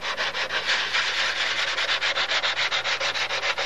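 Sanding block rubbed back and forth over wooden wing sheeting of a Brodak Cardinal model plane, a steady rhythmic scrubbing of close, even strokes repeating without pause.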